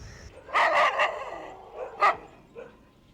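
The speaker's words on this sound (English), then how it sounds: "a bow-wow chowkidar signals his presence" A dog barks at a house, giving several sharp, close bow-wows in a quick cluster, then a single loud bark and a softer final yip. No talk is heard.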